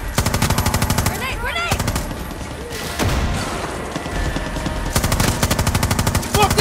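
Rapid automatic gunfire in the video game Far Cry 6 comes in loud rattling bursts, first near the start and again toward the end, with shouting voices between the volleys.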